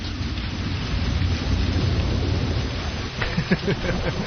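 A thunderstorm rages outside, with steady heavy rain hissing on surfaces and low thunder rumbling throughout, swelling toward the end.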